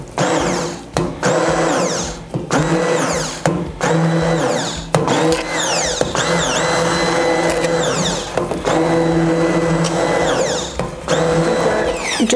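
A blender purees vegetable minestrone soup, whirring loudly in repeated bursts that stop and restart, motor pitch rising and falling as the load shifts, close up with no speech.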